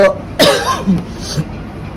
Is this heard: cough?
yes